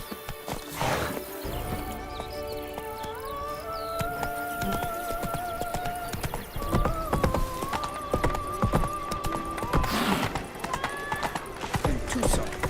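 A game horse named Roach trots along in The Witcher 3 with steady, rhythmic clip-clop hooves, close and clear over a soft musical backdrop, with occasional brief snorts.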